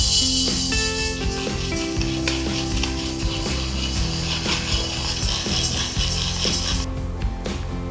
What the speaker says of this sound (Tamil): அடுத்தது கடலைப்பருப்பு வறுத்துக்கலாம்